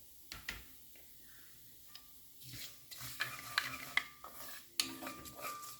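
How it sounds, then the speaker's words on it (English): Ingredients for a roasted cauliflower curry sizzle gently in a pan over moderate heat, with a soft frying hiss broken by sharp clinks and scrapes of a utensil stirring against the pan. "You want everything just to be kind of sizzling away."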